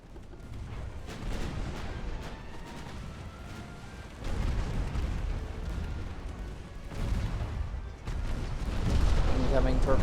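Heavy naval gunfire pounds the warship Colmar in Ultimate Admiral: Dreadnoughts, with repeated deep booms and rumbling impacts in waves, growing louder toward the end, while a voice talks in between.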